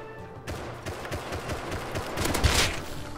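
Rapid gunfire in the survival game Rust from a bolt-action rifle and an AK during a base raid, a dense, steady volley of shots running throughout at moderate loudness, with a louder burst near the end.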